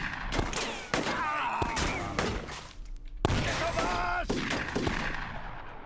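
Repeated gunshots from the video game UFO Aftershock, a cluster of sharp loud bursts early on and another volley after a brief lull, with game noise and faint voices underneath.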